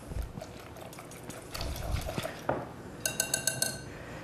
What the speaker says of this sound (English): then you want to fill it with water